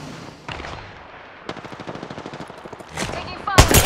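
Gunfire in the video game Apex Legends: a sustained stream of rapid automatic shots ticks along at a steady rhythm, growing louder and ending in a sharp close burst, with voice bits mixed in.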